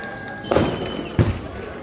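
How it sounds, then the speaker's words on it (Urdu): Firecrackers set off outdoors during a political gathering in Ladakh: two dull, booming bangs about a second apart, moderately distant, over a steady background murmur. "یہ پٹاخے جو چھوڑے جا رہے ہیں"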